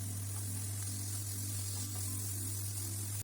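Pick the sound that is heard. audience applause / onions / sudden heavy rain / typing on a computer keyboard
onions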